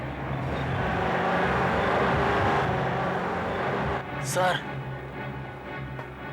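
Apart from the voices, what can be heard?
car approaching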